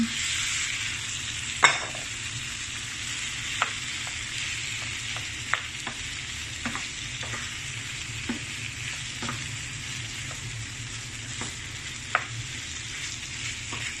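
Shrimp frying in tomato paste in a pan, a continuous close sizzle with occasional sharp clicks of a utensil stirring, no one talking.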